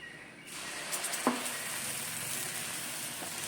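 Green gram dosa batter sizzles steadily on a hot pan, a continuous close hiss that starts abruptly and holds at an even level, with a small clink near the start.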